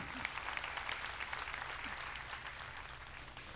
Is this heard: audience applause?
yes